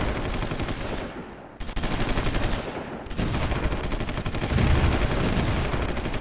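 Artillery and gunfire rumble continuously in the war strategy game Supreme Ruler Ultimate, a loud, dense barrage of rapid shots and blasts with two brief dips before it swells again.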